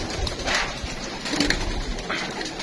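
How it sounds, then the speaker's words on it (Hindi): Pigeons of many breeds coo softly in a breeder cage, low repeated calls rising and falling amid steady rustling and background noise, with no talking. "ये माशाल्लाह तकरीबन हर नस्ल के कबूतर अल्हम्दुलिल्लाह आपको इस केज में"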